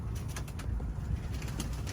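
Pigeons and other birds outdoors, soft cooing and faint chirps with a few wing flaps over a low, steady rumble of background noise.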